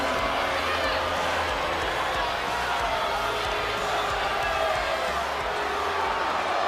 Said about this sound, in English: This crowd is jacked.